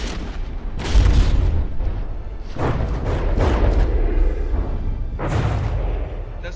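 Heavy explosions and shell fire strike a ship in the From the Depths naval combat game, a series of loud, deep booms and rumbling blasts in rapid succession, one after another with no pause.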